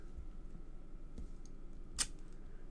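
Scissors trimming a card image for a frost tree card, with a couple of faint snips and one sharper cut standing out close by against a quiet room hiss.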